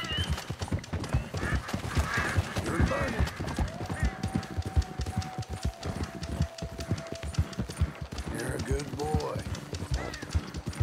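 Rhythmic clip-clopping of horse hooves at a steady trot in Red Dead Redemption 2, close and prominent, with a whinny and a voice talking over it.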